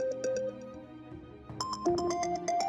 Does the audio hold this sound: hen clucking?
no